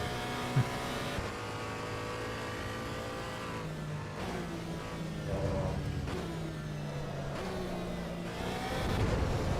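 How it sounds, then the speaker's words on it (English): A flat-six race car engine in Assetto Corsa EVO holds against the rev limiter, a steady raspy buzz with rhythmic stutters and pitch shifts that runs loud and close throughout, without talk. "I think I don't like the rev limiter too much, also when it's standing. It's a bit raspy and not very flat 6-y."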